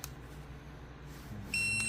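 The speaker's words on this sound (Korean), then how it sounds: "그 삐 소리 나잖아." Near-silence gives way to a high-pitched electronic beep near the end, a short sustained tone from Armsak cordless shears as the safety lock engages.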